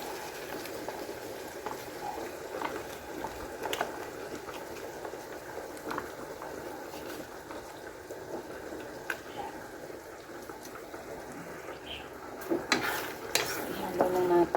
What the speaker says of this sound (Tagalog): Ihalo na natin yan.